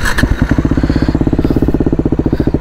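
A Bajaj Dominar 400 motorcycle with an aftermarket exhaust idles with a loud, rapid, lopey exhaust thump, steady and close, its throaty pulses repeating evenly throughout.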